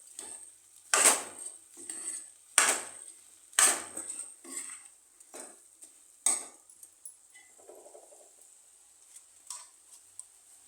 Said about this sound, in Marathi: आता हे सर्व आपण ढवळून घ्यायचं आहे